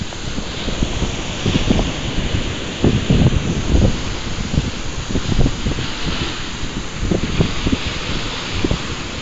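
Ocean waves wash onto a beach as wind buffets the microphone, with a steady broadband rush and a few louder surges of surf breaking close by.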